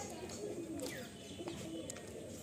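Quality pigeons at a loft coo continuously, a soft layered murmur with scattered short chirps rising over it at a moderate distance.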